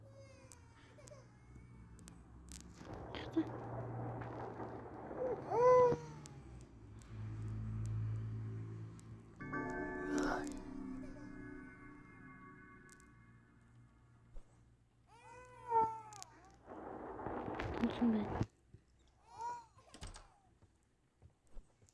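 A cat meows in a horror video game, a few short mewing cries heard among game sounds, low droning tones and a door-like thud, with an infant's cry mixed in at moments.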